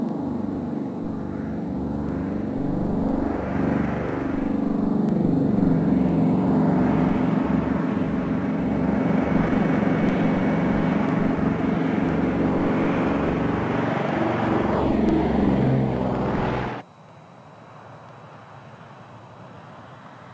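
A Caribou aircraft departs, its engines roaring loud and sustained with a pulsing, throbbing drone that swells and holds before cutting away sharply to a faint residual hum.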